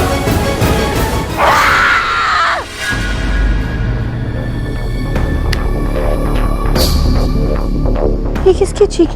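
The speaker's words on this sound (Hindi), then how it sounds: "ये किसकी चीखने की आवाज थी?" A person lets out a loud, drawn-out scream in a Hindi TV drama scene. It lasts about two seconds, then cuts off into a low, steady hum with faint scattered noises afterward.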